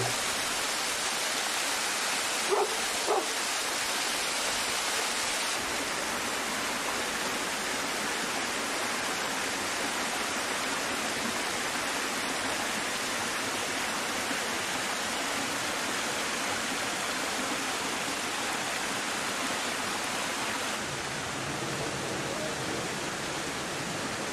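A protected waterfall in Harjumaa, Estonia, fed by a small limestone-canyon stream, rushes in a steady, dense roar that stays even and moderately loud from start to finish, with no voices.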